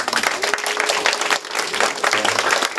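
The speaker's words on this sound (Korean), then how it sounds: "한번 박수 한번 보내주시죠" An audience at a Korean book launch event bursts into steady applause, many hands clapping together at a loud, sustained level for the whole stretch.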